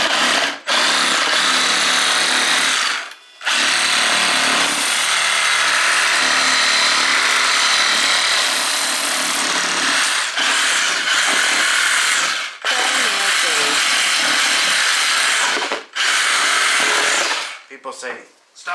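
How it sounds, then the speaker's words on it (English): A large power saw cuts steadily with a loud, harsh whine that runs almost nonstop for about eighteen seconds, broken only by a few brief pauses. "look at this giant saw"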